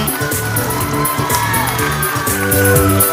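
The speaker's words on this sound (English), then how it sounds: "keep the applause on." A crowd at a school annual day function cheers and whoops loudly, with shouting voices blending into a continuous roar that stays strong through the short stretch.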